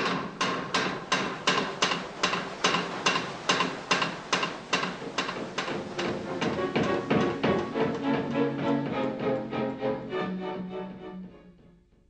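A water-powered trip hammer forges a scythe blade with loud, evenly spaced blows in a fast regular rhythm, the strikes blurring together and fading out toward the end.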